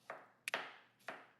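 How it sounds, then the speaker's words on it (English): A kitchen knife chopping peaches on a board for a summer fruit crumble, three crisp, quiet, close-up cuts spaced unevenly. "chopping my peaches."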